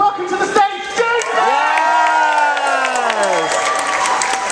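A cabaret crowd at a Hamburger Queen show applauds and cheers as a costumed performer is welcomed to the stage, loud dense clapping with whoops and a rising sustained shout riding over the top.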